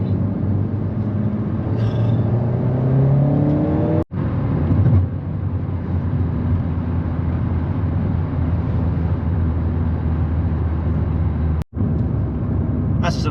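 A car drives steadily on a Scottish road toward a meeting point near Perth Airport, its engine drone and road rumble loud and continuous, with a couple of brief dropouts.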